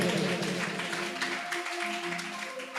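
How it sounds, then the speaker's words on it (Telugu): A church congregation claps together, a dense, continuous wash of applause that stays fairly loud before easing slightly toward the end. "చప్పట్లు కొట్టండి గట్టిగా."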